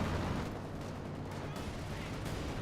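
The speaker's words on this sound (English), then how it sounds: "We'll fire one barrage off before going down. Incendiary barrage." An incendiary artillery barrage in the Company of Heroes 2 video game, heard as a dense, continuous rumble of booming shots and blasts, moderately quiet and mixed with game battle noise.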